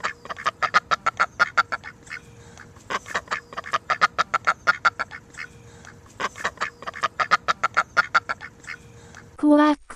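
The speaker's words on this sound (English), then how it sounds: "Listen to the duck." Duck quacking in a children's bird lesson: repeated bursts of loud, close quacks in rapid runs with brief pauses between groups, a sharper call at the very end.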